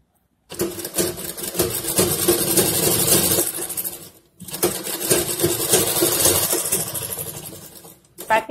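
A sewing machine stitches a piping strip around a suit neckline in two long bursts of fast, buzzing mechanical chatter, each lasting several seconds, with a short pause between them. The sound is loud and close, with no talk.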